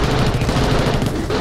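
Pistol gunfire in a video game, a dense, loud stream of rapid shots and impacts filling the whole moment with no speech over it.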